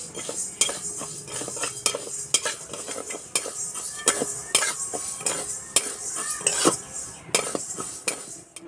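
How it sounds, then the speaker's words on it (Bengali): Moong dal is dry-roasted in a pan and stirred with a metal spoon, giving repeated sharp scrapes and clinks against the pan over a faint, steady sizzle, close by and without talk. "প্রথমে আমি মুগের ডাল ভেজে নেব। বেশি ভাজবো না, একটু নেড়ে নেব"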